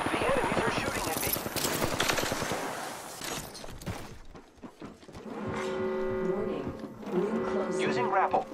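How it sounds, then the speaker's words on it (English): Enemy gunfire in the battle royale game Apex Legends: dense bursts of rapid shots fill the first few seconds, then fade into game tones, alarms and music. "The enemies are shooting at me."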